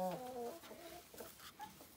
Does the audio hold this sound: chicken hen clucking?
yes